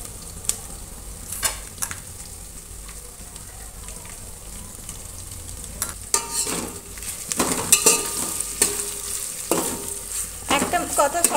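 Ginger garlic paste fries in a pan, sizzling under intermittent scraping stirs that grow busier and louder toward the end.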